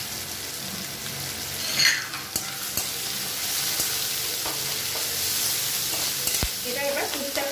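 Chopped ginger and onion crackle and hiss in a hot pan, an even, close sizzle with scattered spoon clicks and stirring scrapes throughout.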